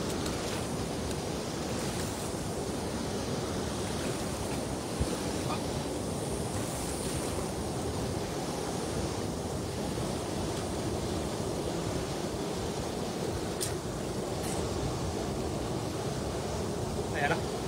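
Strong wind blowing by the sea while fishing from the shore, a steady broadband roar with surf-like wash throughout, loud and continuous, with faint voices under it.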